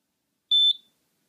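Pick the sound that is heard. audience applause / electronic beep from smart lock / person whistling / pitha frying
electronic beep from smart lock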